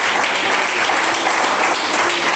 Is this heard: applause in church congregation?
yes